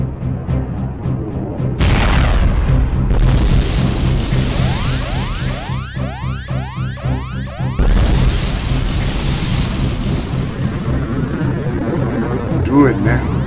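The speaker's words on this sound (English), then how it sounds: "Tronic, we're going to crash." Spaceship crash and explosions in a science-fiction short film: sustained loud rumbling booms and crashing roar, with a run of descending whooshing sweeps, all mixed under dialogue.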